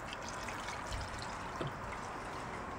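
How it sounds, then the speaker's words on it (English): Water poured into a pot of iguana stew as a quiet, steady liquid wash, continuous and close but faint, with a couple of small splashes. "So I'm going to add a little bit more water here, just enough so that we cover this."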